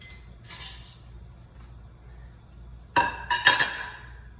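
A fork and knife clink against a plate, a soft chime early on followed by a cluster of sharper metallic taps and scrapes, quiet and close with no talk.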